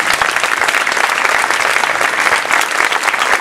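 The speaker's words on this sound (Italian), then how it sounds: "E vogliamo fare un grosso applauso a Giampi, la mascotte della nostra banda" Dense, steady applause from a concert audience at a town band's San Bartolomeo concert in Portacomaro in 2020, loud and continuous throughout with no talk over it.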